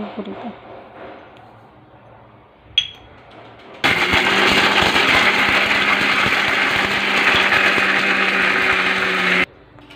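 A small clink and quiet activity, then a mixer grinder grinding roasted garlic and spices with salt roars on loudly and whirs steadily for several seconds before cutting off abruptly.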